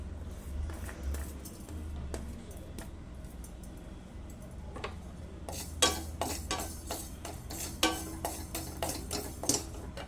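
Sesame and cumin seeds dry-roast in a hot kadhai, producing faint crackles followed by a run of sharp, close scraping and tapping clicks as they are stirred, with no voices.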